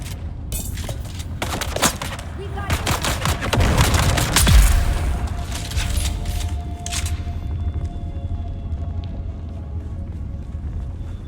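A level 3 turret in the game Dune: Awakening firing loud, rapid bursts of gunfire for several seconds, with heavy booming impacts in the middle, then tapering into a lower rumble and fading ambience.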